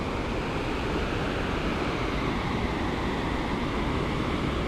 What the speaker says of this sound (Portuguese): Aqui, ó, a água passa por dentro.